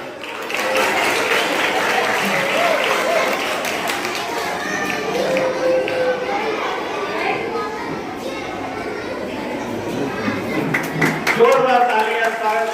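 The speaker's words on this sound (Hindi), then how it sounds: "स्वागत करें जोरदार ताली।" Loud, continuous applause from a school ceremony audience welcoming an official, a dense steady wash of clapping with some children's voices mixed in.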